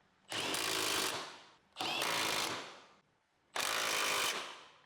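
A powered socket tool drives an 18mm front subframe bolt on a 2010-2014 Volkswagen Golf R during a control arm install, in three loud, close bursts of about a second each, separated by short pauses.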